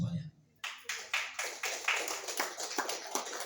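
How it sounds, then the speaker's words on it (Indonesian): A small audience at a construction workforce certification event in Sumedang claps in a quick, uneven burst of applause that carries on for several seconds after a brief pause. "Aplaus untuk semuanya."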